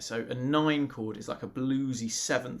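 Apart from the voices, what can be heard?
No distinct noise like a dog, phone or traffic.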